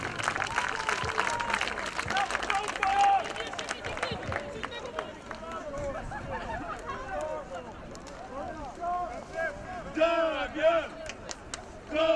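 Spectators at an American football game between Lowlanders Białystok and Zagłębie Steelers applaud and cheer in bursts that rise and fall, while an announcer talks continuously over the crowd noise.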